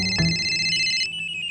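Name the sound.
phone ringing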